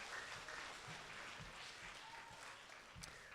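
An audience at a school spelling bee gives a round of applause, steady scattered clapping from a crowd that sounds faint and distant, lasting a few seconds.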